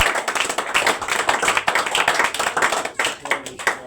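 A group claps together in a quick, dense burst of applause that keeps going steadily for several seconds.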